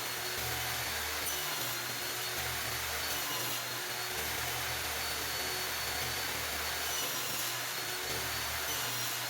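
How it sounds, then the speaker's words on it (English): A table saw with a sled whines steadily through wood, cutting 4 by 4 inch pieces, a loud continuous cutting roar with slight shifts in pitch, no voices. "Using my table saw sled, I'm cutting the wood 4 by 4 inches"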